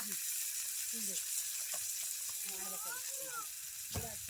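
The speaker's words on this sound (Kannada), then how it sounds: "ಈಗ ಉಳ್ಳಾಗಡ್ಡಿಗೆ ಸ್ವಲ್ಪ ಎಣ್ಣೆ ಹಚ್ಚಿ ಹುರಿದ ಹಾಕ್ತೀನಿ" Onions frying in a little oil for chicken masala curry, a steady broadband sizzle running throughout with faint clinks and background voices.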